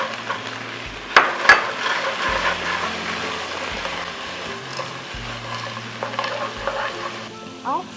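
Vegetarian kung pao with fried king oyster mushroom, tofu, chili and peanuts stir-fried in a wok over high heat: steady loud sizzling with scraping stir strokes and a few sharp clanks, no talk.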